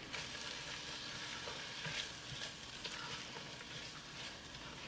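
Food sizzles and fries in a pan for Tom Ka Gai while being stirred, a steady crackling hiss with small scraping clicks, close and continuous with no talk.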